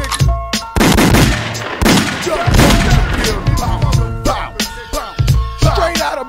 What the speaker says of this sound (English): I need to hear a lot of gunshots